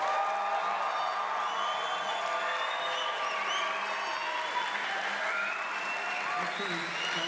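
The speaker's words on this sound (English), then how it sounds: "Let's give them another round of applause." Crowd at the University of Hawaii West Oahu Fall 2011 commencement applauding the graduating class, sustained clapping with scattered cheers and whoops, voices audible over the ovation.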